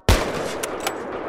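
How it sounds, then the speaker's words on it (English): A single sharp gunshot cracks out in the video game Unturned, followed by a sustained, noisy ringing tail with a couple of faint later pops. "Now we need to try to shoot out these claim flags."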